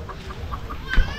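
A chicken clucks in a few soft, short notes at a steady pace, fairly near, with a faint background hum and a brief thump near the end.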